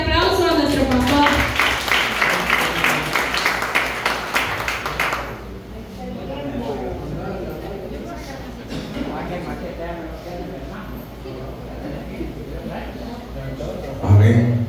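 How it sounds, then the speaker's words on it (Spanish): Congregation at a Sunday church service applauding loudly to welcome their pastor, dense clapping for about five seconds before settling into murmured voices and lighter background sound. "recibamos con un fuerte aplauso a nuestro pastor"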